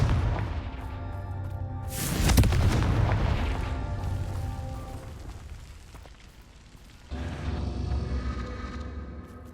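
A Confringo fire spell explodes in the video game Hogwarts Legacy, a sharp booming blast that flares and rolls away, then a second, duller burst of rumbling impact follows later against a quieter game soundscape.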